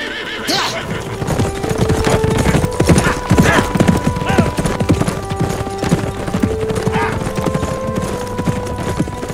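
Horses' hooves clip-clop steadily on the ground at an Ottoman-era encampment, with occasional neighing and whinnying, loud and continuous for the whole stretch with no talk.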